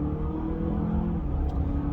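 A 2024 Honda Accord Hybrid accelerates, its engine and drivetrain giving a steady low hum with rising tonal whine, heard from inside the car at moderate loudness with no talk.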